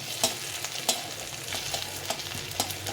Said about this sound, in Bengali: আদাটা অনেকটা ভাজা হয়ে আসছে